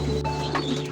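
A pigeon loft door swings open with a short, close mechanical rattle and clatter of latch and hinge, steady and fairly loud over a low background hum.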